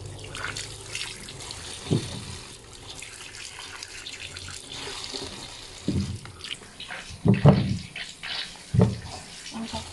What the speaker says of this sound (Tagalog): Hugasan na rin natin ang kanyang laman.